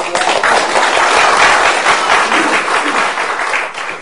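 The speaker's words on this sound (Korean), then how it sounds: "박수 한번" Union members at a gathering applaud on cue, a loud, close burst of crowded clapping with a few individual claps standing out, easing slightly toward the end.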